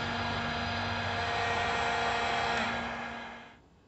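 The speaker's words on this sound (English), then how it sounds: "my heat gun is not powerful enough" Steady broadband roar of a heat gun held on acid-core solder, loud and unbroken for about three and a half seconds before it cuts off and leaves a quiet tail.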